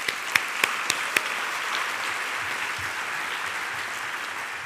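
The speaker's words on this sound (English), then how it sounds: "Please join me in a round of applause for the emeriti." University convocation audience applauding emeriti faculty, opening with a few sharp distinct claps before settling into a steady, even roar of applause.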